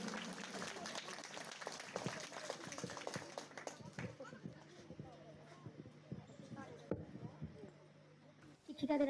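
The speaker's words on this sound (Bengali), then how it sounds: "সকলে একটু করতালি দিয়ে আহ্বান জানান" Crowd applause at a school annual function welcoming the chairperson: a dense patter of clapping from many hands that thins out toward the end, with people talking faintly beneath it.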